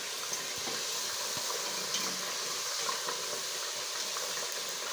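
Potato crisps are stirred while deep frying in oil, giving a faint, steady sizzle and hiss with occasional soft scrapes and taps from the stirring.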